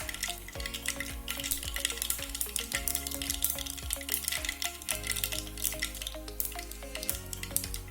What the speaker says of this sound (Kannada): ಎಣ್ಣೆ ಕಾದಿದೆ. ಸಾಸಿವೆ ಚಿಟ್ಕುಟಿದ ತಕ್ಷಣ ಊರಿನ ಲೋ ಫ್ಲೇಮ್ ಮಾಡ್ಕೊಳ್ಳೋಣ